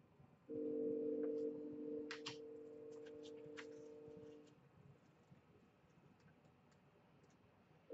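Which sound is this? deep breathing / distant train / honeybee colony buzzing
distant train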